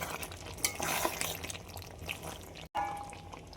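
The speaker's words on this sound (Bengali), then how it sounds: "হালকা হাতে নেড়ে দেবো।" Potato and bean poppy-seed mash being stirred gently in a pan with a little mustard oil, giving soft scraping and light sizzling textures, with a brief scrape near the end and no talking.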